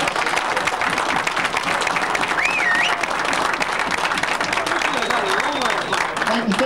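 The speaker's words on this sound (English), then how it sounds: "A round of applause, Mr. Roberto Rojas." An audience applauds at an artistic billiards exhibition, sustained steady clapping filling the room, loud and close, with a voice speaking over it.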